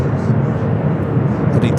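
Airbus A320neo airliner lined up for takeoff at LAX, a loud, steady broadband engine rumble over a short stretch, with a person talking over it.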